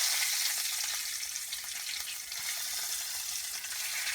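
Chana dal, peanuts, cashews, red and green chillies, curry leaves and urad dal crackle and sizzle in hot oil for lemon rice, a steady bright frying hiss throughout with no talking.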